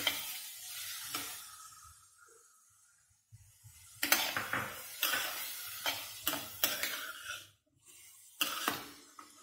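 Boiled sweet corn goes into a sizzling tawa over medium gas for mini vegetable pizza topping, with quiet hissing followed by repeated bursts of sizzle and spatula scrapes, close and fairly loud.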